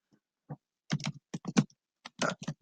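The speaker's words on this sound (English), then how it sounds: "So here's a link we're going to type right here." Keys tapped on a computer keyboard in short irregular clusters, close and quiet, with brief pauses between bursts of typing.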